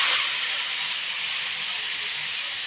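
Small bowl of water poured into a hot pan of stuffed bitter gourd with ground spice paste, producing a loud, steady, close steam hiss and sizzle throughout.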